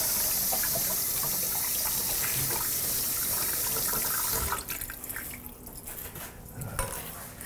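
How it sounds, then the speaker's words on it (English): Tap water runs steadily into a sink as an item is rinsed off during potato salad prep, a continuous broadband rush for about four and a half seconds before the flow breaks into splashes and drips. "Let me rinse this off real quick."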